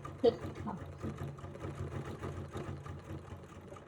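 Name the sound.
sewing machine stitching over couched fibers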